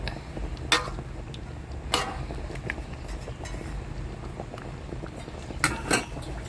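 Coconut milk simmers in a pot of pork binagoongan, a soft steady bubbling under occasional sharp clinks of a utensil against the pan.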